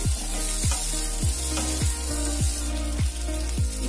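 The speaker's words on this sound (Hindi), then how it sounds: "फिर उसमें हम ये भिंडी को भी सॉफ्ट करके ले लेंगे। इसे भी मीडियम फ्लेम पे ही हमें अच्छे से सॉफ्ट करना है।" Okra sizzles steadily in hot oil in a kadai over a medium flame, with a close, constant frying hiss and regular soft knocks of stirring, and no voices.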